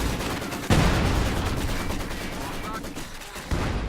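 Video game combat: MG34 machine gun bursts and an anti-tank gun barrage crack and boom, with sharp loud impacts at the start and near the end amid continuous gunfire.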